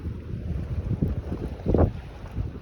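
Gusty wind at a beach in the Philippines buffeting the microphone with a low rumble, swelling in bursts, with water sounds in the background.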